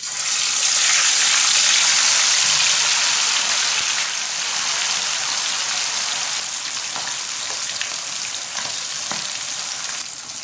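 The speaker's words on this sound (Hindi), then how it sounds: "अब चिकन को फ्राई कर लेंगे।" Marinated chicken fries in hot oil with a loud, steady, close sizzle that holds throughout, dipping slightly partway through, with faint scattered crackles and no talk.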